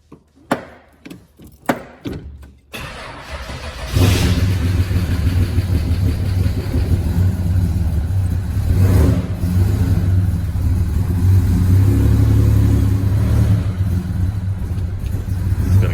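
A 265 Hemi engine sits in park and cranks over a few times, then catches and runs loud and close with a rough, uneven idle and throttle blips, alone with no talking.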